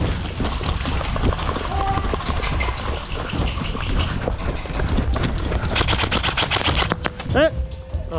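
Airsoft guns fire rapid bursts during an outdoor game, dense crackling shots under voices and movement, ending in a brief sharper burst near the end.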